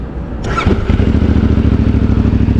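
A 2025 CF Moto 450MT motorcycle engine is started up close: a short starter whir, then the engine catches and settles into a loud, steady, throbbing idle that runs to the end.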